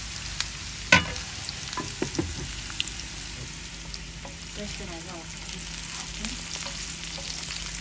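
Chicken curry with potatoes sizzling and frying in a pan, a steady crackle broken by a sharp scrape of the spoon and repeated stirring clatters, close by.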